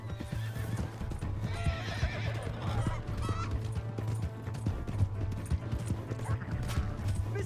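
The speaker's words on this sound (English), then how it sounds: "Hey, that's my horse!" A horse in the Western video game Red Dead Redemption 2 whinnies while its hooves clop steadily in a fast rhythm, with other animal calls and faint voices mixed in the background.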